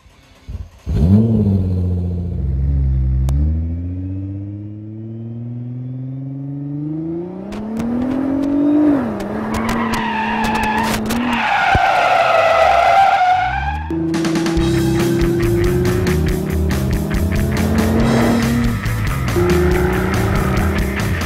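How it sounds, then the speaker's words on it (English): A 2012 Nissan GT-R driven hard around Infineon Raceway in Sonoma, its engine climbing loudly through revs with gear shifts and brief tire squeal, close and continuous with no talking. "we brought it here to Infineon Raceway in Sonoma Valley. Put it through its paces"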